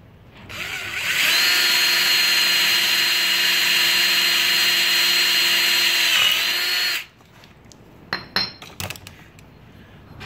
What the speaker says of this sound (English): I'm gonna drill in another new hole.